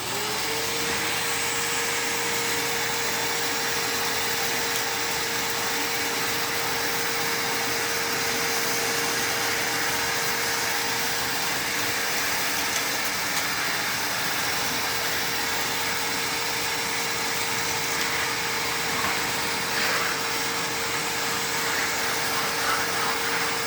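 A shop dust collection vacuum runs continuously while sucking up the floor, a loud, steady roaring whoosh with a constant motor hum that holds unchanged throughout.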